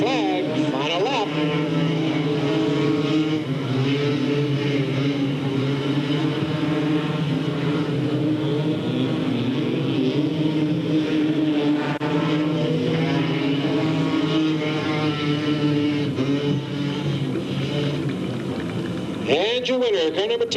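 Race cars on the final lap at Delta Speedway sweep through a corner, a continuous loud engine roar with rising and falling tones that swells near the end.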